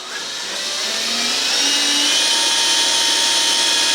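Electric motor of a 1/10 scale Cross RC EMO AT4 trail truck spinning up in low gear with wheels raised off the ground, a steady close whine rising in pitch and loudness then holding level.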